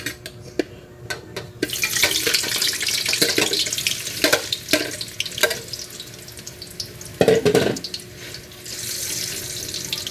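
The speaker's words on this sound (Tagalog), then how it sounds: "Mainit na ang ating mantika, ilalagay na natin ang ating squid balls." Squid balls drop into hot oil and fry with a steady, loud crackling sizzle, broken by a few sharper spits and clinks nearby.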